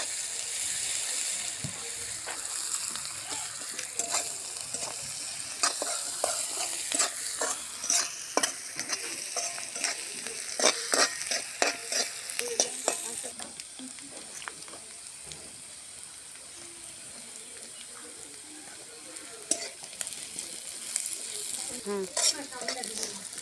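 Chopped onions fry in hot oil with a steady close sizzle, while a spatula scrapes and stirs in quick repeated clatters throughout.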